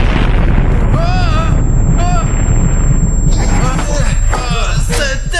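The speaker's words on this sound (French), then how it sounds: "C'était une explosion!" A video-game explosion in an SCP Foundation Cartoon Cat game sounds as a loud, sustained rumbling boom that fills the whole clip, with a bright tonal whine and warbling effects layered on top.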